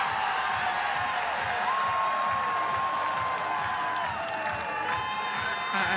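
Softball stadium crowd at a Mississippi State versus Florida game cheering and shouting after a close play at home plate, a steady roar of many voices with whoops carrying through the whole stretch.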